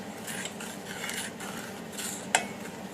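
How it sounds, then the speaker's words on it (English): A spoon stirs a simmering low-carb Montreal BBQ sauce in a pot with vinegar, soft rhythmic scraping strokes under a faint bubbling hiss, plus one sharp clink of metal near the end. "Just stir that until it melts and let it simmer for just a couple minutes."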